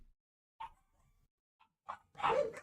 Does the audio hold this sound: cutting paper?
no